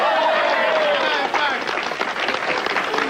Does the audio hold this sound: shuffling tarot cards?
no